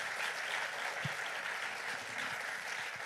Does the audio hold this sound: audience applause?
yes